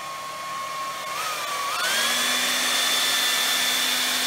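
A hair dryer blows close and loud with a constant whirring hum whose pitch jumps upward and settles about halfway through as the setting or angle changes, with no talk.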